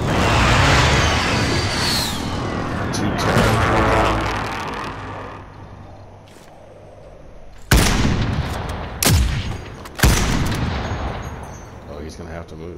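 Sniper rifle gunfire in the video game Call of Duty: sharp, loud shots at about 7.7, 9 and 10 seconds, following a stretch of rumbling battle noise and low voices.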